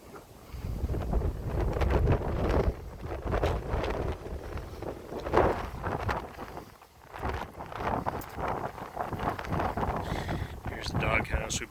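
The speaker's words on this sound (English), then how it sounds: "windy around the corner here." Wind gusts blow hard across the microphone outdoors on a hillside trail overlooking whitecapped water, with rumbling, buffeting rushes that rise and fall, and someone speaks at times under the noise.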